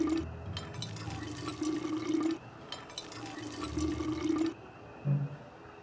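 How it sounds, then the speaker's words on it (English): Water pouring from a hand pump into canteens in the game We Happy Few: several bursts of gurgling, filling liquid with short pauses between them, fairly quiet, ending with a brief splash. "so I refilled all my canteens"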